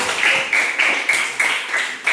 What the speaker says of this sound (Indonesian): Oke, kita kasih tepuk tangan untuk kelompok 3.